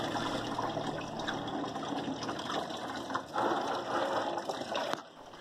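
Water gushes steadily as it drains from the cooling system of a Hyundai i10 Magna petrol car during a coolant change. The rushing flow stays loud and continuous, then drops off sharply near the end.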